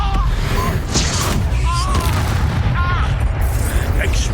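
Expulso explosion spells go off in the Hogwarts Legacy video game. Repeated booming blasts and bangs overlap in a dense, loud barrage, with faint tonal effects on top.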